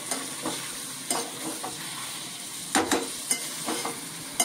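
A spoon stirs and scrapes through stuffed eggplant curry with a little water in a sizzling pan, with soft irregular knocks over a constant frying crackle.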